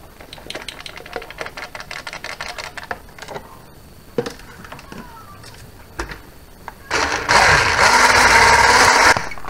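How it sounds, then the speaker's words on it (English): Double cream is whisked, first as rapid rattling taps, then as a loud, steady electric whirr that takes over for the last couple of seconds. "just going to whisk that up."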